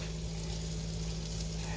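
Meat frying in oil and butter in a non-stick skillet for beef stroganoff, a steady close sizzle with a low constant hum underneath and no talking.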